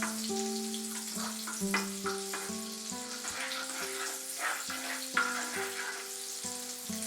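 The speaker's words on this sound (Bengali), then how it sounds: "একদম ফ্লেমটাকে কমিয়ে দিয়ে বাটারটাকে মেল্ট হতে দেব।" Butter, with a spoon of white oil, melts and sizzles gently in a pan over a low flame for pav bhaji, a steady soft frying hiss with light stirring clinks, no voices.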